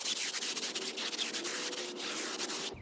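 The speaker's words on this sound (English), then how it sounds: "I'm going to start by scrubbing the tire with my tire brush" A tire brush scrubs a truck tire in quick, repeated rough strokes, close and loud throughout.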